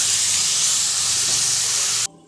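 Ginger, green chili and garlic sautéing with onion in a pan for squid roast, giving a continuous loud sizzling hiss that cuts off abruptly near the end.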